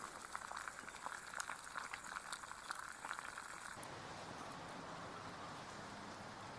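Water at a rolling boil, a steady dense bubbling and hiss that holds constant and close with no voices, shifting partway through to a smoother, broader rush.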